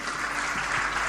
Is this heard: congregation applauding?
yes